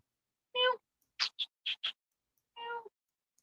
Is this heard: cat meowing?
yes